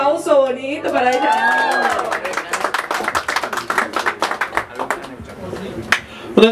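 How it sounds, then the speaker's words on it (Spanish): Applause for a birthday girl at a party with a live mariachi band, a steady run of close, lively hand claps under people talking and cheering. "y ese aplauso bonito para ella"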